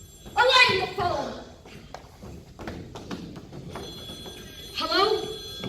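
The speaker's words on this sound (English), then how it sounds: "Elaine, the phone." An old-fashioned telephone bell rings in two short bursts, one near the start and one near the end, and soft thumps and footsteps fall between the rings.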